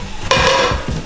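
Cooked lentils in a pot on the stove being stirred, a single loud close scrape of a utensil against the pot lasting about half a second, followed by a softer knock.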